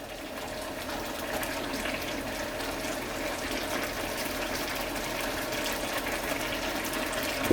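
Vermicelli noodles boil in a pot, giving a steady, moderately loud bubbling and rolling-water wash that continues evenly throughout without speech.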